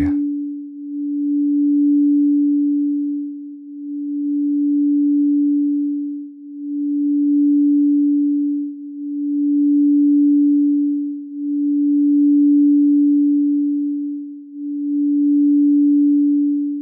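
A quartz crystal singing bowl tuned to F hums a steady low pure tone, swelling and fading in a slow regular pulse about every two and a half seconds, alone and calm throughout.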